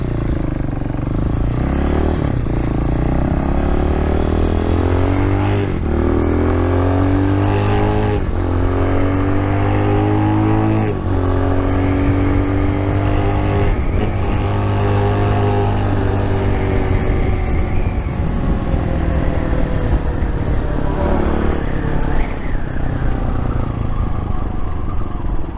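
A Magician 250 motorcycle engine on a pavement test ride, loud and close, revving up through rising pitch sweeps, shifting and dropping back repeatedly over about twenty-five seconds with wind and road clatter.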